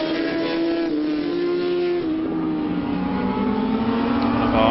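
Racing motorcycle in an endurance race at Anglesey circuit, its engine a loud sustained high-revving wail with shifting pitch as it passes close by, no talking over it.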